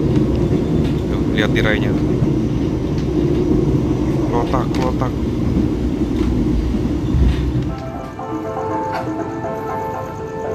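Steady rumble of the Mutiara Timur passenger train running at night, heard from inside the carriage, a continuous low roar with rattling, under a person talking, easing off near the end.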